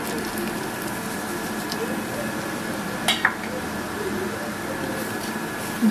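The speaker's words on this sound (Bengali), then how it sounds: "ঘিয়ের সঙ্গে সুজিটাকে ভেজে নেব।" Semolina frying in ghee in a frying pan, a low steady sizzle with a couple of brief scraping stirs midway.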